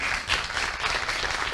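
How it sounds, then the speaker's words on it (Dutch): Steady audience applause at a certificate award ceremony, a brief, dense wash of many hands clapping at moderate loudness with no speech over it. "Een applaus."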